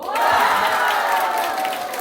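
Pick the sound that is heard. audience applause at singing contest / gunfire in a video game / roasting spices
audience applause at singing contest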